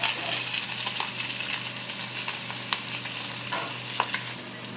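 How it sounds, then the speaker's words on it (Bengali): Hilsa fish frying in hot oil gives a steady, dense sizzle with a few faint pops and light clicks, close and even throughout, no speech. "এখানে আমি এই ইলিশ মাছটা ভেজে নিচ্ছি"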